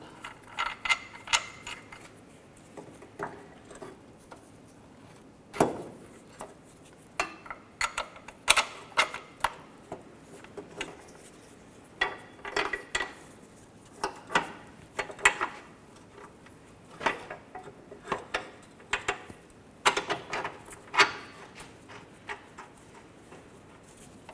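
Mount bolts on the exhaust manifold of a 2007-2013 Mini Cooper being tightened, with irregular bursts of ratchet clicks and metallic ticks close by, separated by short pauses and handling noises.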